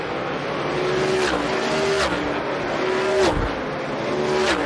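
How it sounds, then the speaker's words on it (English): Loud winged sprint car engines drone steadily as several cars circle past on warm-up laps, with rising and falling pitch and a faint tire squeal now and then. "We're letting these cars kind of idle around."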